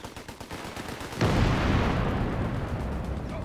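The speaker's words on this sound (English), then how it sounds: "Look at all those bullets spraying everywhere" Gunfire in the World War II strategy game Company of Heroes 3, a rattling burst of rapid shots followed by a loud booming blast that decays into a rumbling tail.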